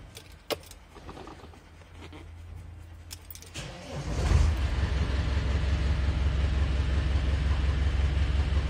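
Car keys jingle and click in the ignition before a car engine cranks and starts, then settles into a steady, close idle that continues to the end.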